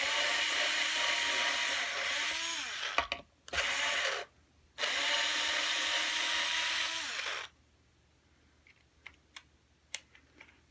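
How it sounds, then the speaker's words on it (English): A power drill whines in several sustained bursts, pitch dipping under load, drilling holes in a Telecaster-style guitar body, then stops; faint clicks and taps follow in the quiet. "I want to drill these back just a little bit from the original mounting."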